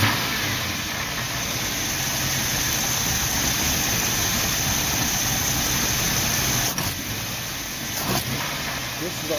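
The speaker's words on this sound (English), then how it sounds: "Now it wants to idle low on me." A 1990 Jeep Wrangler engine idles low and rough after an idle screw adjustment, a continuous close rumble with a brief dip near the end.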